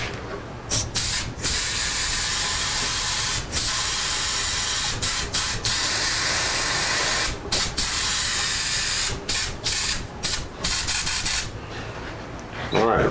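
A steady Badger 250 airbrush hiss with a large tip sprays a finish in long bursts, broken by short pauses where the spray cuts off and restarts.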